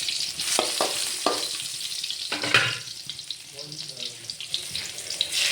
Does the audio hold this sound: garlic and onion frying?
yes